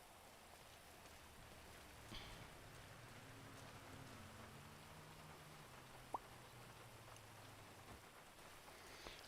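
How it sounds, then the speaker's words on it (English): Steady rain falling on a surface, a continuous soft hiss throughout with a faint low drone beneath and one brief sharp tick. "It is raining."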